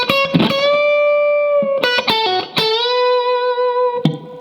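Distorted electric guitar bends a note up a whole step, with quick raked string scrapes before the bent notes, loud and solo for a few seconds.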